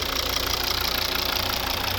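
2014 Volvo V70 with a 2.0 D3 diesel engine and automatic gearbox idling, a steady even rumble with a rapid fine knocking pulse, close and moderately loud, no talk.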